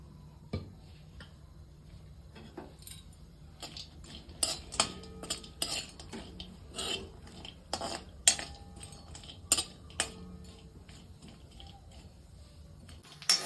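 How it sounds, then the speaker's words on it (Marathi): Grated coconut roasting in a little oil in a pan, stirred with a metal spoon that scrapes and clinks against the pan in irregular strokes over a low background hiss. "अगोदर मी खोबरं भाजून घेते थोडं तेल ओतते मी ह्याला"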